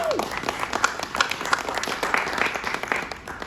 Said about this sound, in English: So please just give yourselves a round of applause.